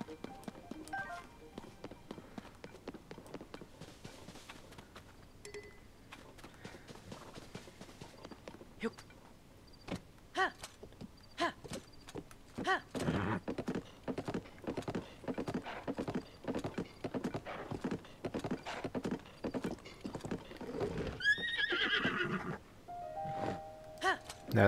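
Horse hooves clip-clop at a steady gallop in the video game Tears of the Kingdom, a continuous close rhythmic drumming with occasional snorts and panting, while a person talks over parts of it.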